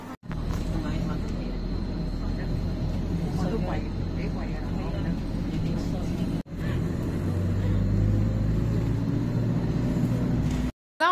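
Interior of a green minibus riding through Hong Kong: steady low engine rumble and road noise throughout, rising in pitch as it accelerates, with a person talking over it.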